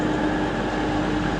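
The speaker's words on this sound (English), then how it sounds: "there's the East Leeds to Newcastle cross-country train. Sneaking out there, out of platform 8A" A Cross Country train bound from Leeds to Newcastle pulls out of platform 8A at Sheffield station, giving a steady, continuous mechanical rumble with a faint tonal hum and no voices.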